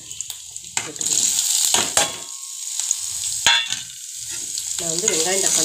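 Goat liver frying in a pan, a close, steady sizzle broken by a few sharp clinks and scrapes of utensils against the pan, with a brief voice near the end.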